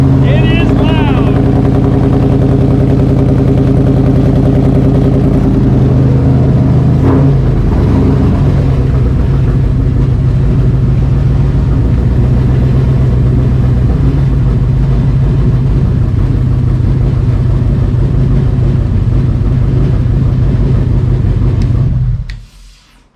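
Ford Aluminator V8 engine running in a Cobra Daytona build, a loud, continuous deep rumble with a low throbbing idle that holds steady before cutting off abruptly near the end, with voices in the background.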